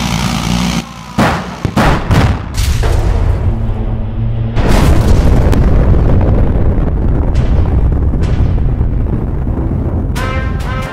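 Animated stickman action with gunfire and explosions as support beams are shot out: a burst of sharp shots followed by a big sustained blast and rumbling debris, loud and dense throughout with no speech.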